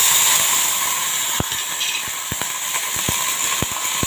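Cumin seeds, ginger pieces, four or five garlic cloves and two dried red chilies frying in hot oil for pakora curry, a close continuous hiss with scattered sharp pops and crackles spread through the sizzle.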